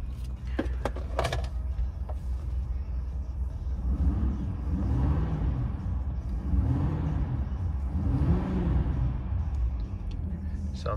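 A few clicks and thumps, then the large engine of a 2021 Ford F-450 Super Duty pickup cranks and settles into a low, steady idle with a couple of gentle rises in pitch.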